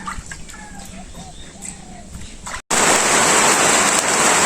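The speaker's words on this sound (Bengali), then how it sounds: "এই যে দিনও বেলায় বৃষ্টি হইতেছে" Steady rain patters on a surface, then suddenly becomes a loud, dense downpour after a brief gap, with birds calling faintly early on.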